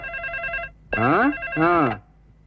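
A landline telephone rings with a repeated electronic trill, followed by two short bursts of speech-like voice sounds close by.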